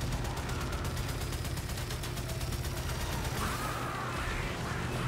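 Railjack ship cannons fire in the Warframe space combat game as a rapid, steady volley of loud mechanical shots over a constant deep engine rumble, easing slightly near the end.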